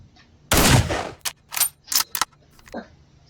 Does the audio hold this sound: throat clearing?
no